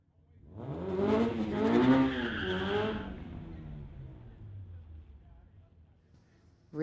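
At a street-legal drag race, a 1995 Honda and a 2018 Golf R launch with a loud, rising engine roar. The sound peaks within a few seconds, then fades away as the cars pull into the distance.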